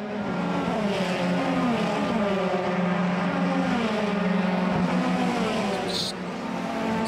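A Euroformula Open race car screams past at Monza in qualifying, one loud, close, high-revving engine note rising and falling through the gears across the whole stretch.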